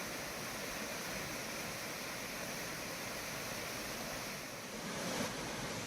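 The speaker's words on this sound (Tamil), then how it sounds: "ஒகேனக்கல்லில் சினியருவி, ஐந்தருவி, மெயினருவி உள்ளிட்ட இடங்களில் தண்ணீர் ஆர்ப்பரித்து கொட்டுகிறது" Water roars down the Hogenakkal falls on the Cauvery in full spate, a steady, dense rushing wash that stays loud and unbroken throughout with no voices.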